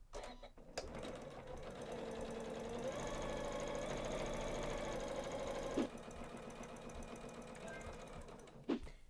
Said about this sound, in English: It's time to top stitch this strap